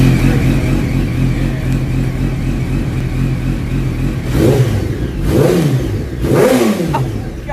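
A BMW 335i engine idles roughly, then revs up three times in rising bursts, loud and close, with a steady mechanical drone underneath.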